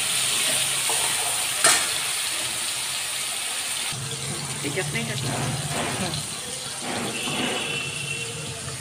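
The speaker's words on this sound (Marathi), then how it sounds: "टोमॅटो टाकून झाला की चांगला परतून घ्यायचा, थोडासा तेलात होऊ द्यायचा" Tomatoes sautéing in hot oil in a pan for a cauliflower curry, giving a steady loud sizzle with stirring scrapes, and a person talks over it in the second half.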